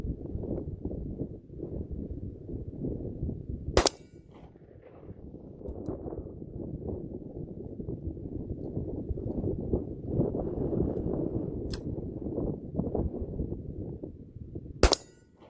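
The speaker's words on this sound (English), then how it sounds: "I was shooting at the steel target." Single-shot shotguns, a Silver Eagle Stalker and an Iver Johnson, fire outdoors at a steel target in three sharp, isolated blasts spread across the clip, over steady, rumbling wind noise against the microphone.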